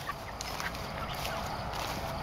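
Chickens in movable chicken tractors on pasture cluck and murmur at close range over a steady outdoor hiss and a faint background drone.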